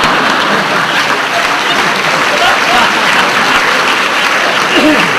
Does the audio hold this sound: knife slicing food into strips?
no